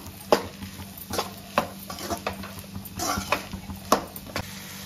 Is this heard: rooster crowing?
no